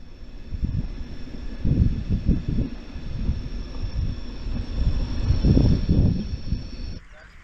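Trains roll past across the way, a steady rumble of wheels with a faint high metallic whine, rising and falling in waves before the noise cuts off abruptly.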